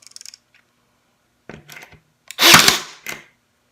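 A Kimo 20V cordless 18-gauge brad nailer fires into pine. Several sharp, close clacks come in short bursts, with one louder, longer burst standing out among quieter shots and gaps of silence between them.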